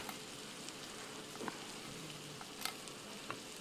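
Dried roasted chilies fry with onions for a mutton curry, giving a steady soft sizzle with a few faint clicks and stirs, quiet and close, no talking.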